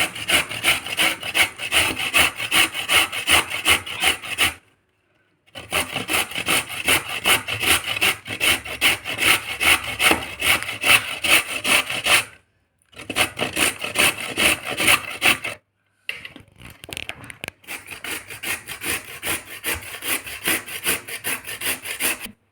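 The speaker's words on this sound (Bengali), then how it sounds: "এবার এগুলোকে গ্রেড করে নেব এই মিহি জায়গাটা দিয়ে করে নেবো" Peeled carrots grated on the fine side of a hand grater give loud, rapid rasping strokes in long runs broken by short pauses, close up and without speech.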